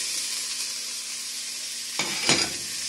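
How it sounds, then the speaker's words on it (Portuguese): Garlic sautéing in a pan with chayote shoots and carrot, a steady close sizzle that surges as the vegetables are stirred near the end. "Refogue o alho. Coloque o broto de chuchu e a cenoura."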